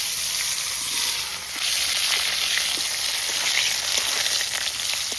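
Fried potatoes hit hot oil already tempered with black cumin and slit green chillies, giving a steady, close sizzle and crackle that holds evenly throughout with no voices.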